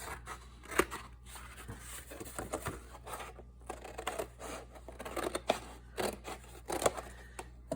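Scissors snip through a piece of paper close by, several irregular crisp cuts and crunches at low level, with faint handling rustle between them.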